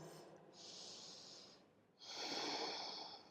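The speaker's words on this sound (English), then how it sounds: "Take a full breath." Breathing during a power yoga flow: a long, airy inhale through the nose, a short pause, then a fuller, louder exhale, close and clear with no speech.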